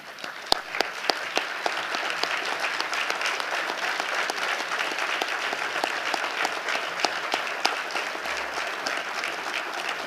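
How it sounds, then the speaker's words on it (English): At a sports Hall of Fame induction ceremony, a standing audience gives the class of 2020 a long, steady round of applause, dense clapping sustained evenly throughout. "give one final round of applause to the class of 2020"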